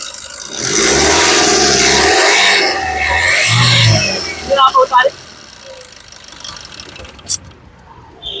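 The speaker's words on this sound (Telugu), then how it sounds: "ఒకసారి యాక్సిలేటర్ ఇచ్చి ఇంజిన్ యొక్క నాయిస్ అనేది వినిపిస్తున్నాను" The diesel engine of a 2016 Maruti Suzuki Vitara Brezza VDI is revved hard with the accelerator, a loud, close roar rising and falling for about three seconds before dropping back to a quieter idle with a few clicks.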